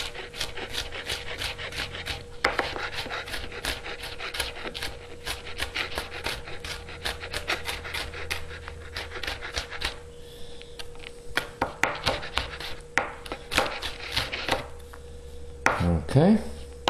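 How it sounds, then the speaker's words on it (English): A knife chops through the membrane of a hot pepper for salsa on a cutting board, giving a long run of quick, sharp, evenly spaced chops with brief pauses, close and fairly loud, and no talk. "And you could just chop that right up."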